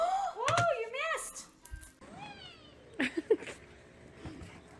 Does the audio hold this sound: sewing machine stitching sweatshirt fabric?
no